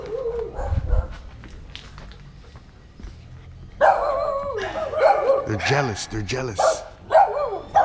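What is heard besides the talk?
dog barking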